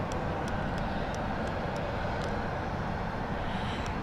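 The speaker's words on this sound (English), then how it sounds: "Very tiny aircraft, this one." A very small aircraft landing at London City airport, a steady distant engine drone and wind-like roar heard from afar, with faint sharp clicks above it.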